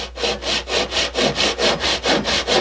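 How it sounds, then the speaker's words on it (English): A handsaw cutting through a wooden board at an extreme angle, steady back-and-forth strokes in an even rhythm of about four per second, loud and close with no talk. "to cut this out, I would recommend using a handsaw because this is an extreme angle"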